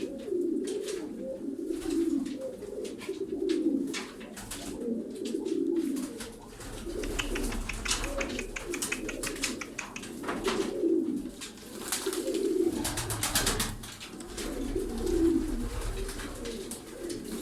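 Several tumbler pigeons in Darıca, Turkey coo continuously nearby, their low rolling calls repeating in overlapping waves with faint rustling underneath.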